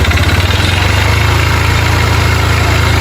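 A motorcycle engine idles with a suspected connecting rod fault, a loud, close, rhythmic throb pulsing evenly throughout with no talking.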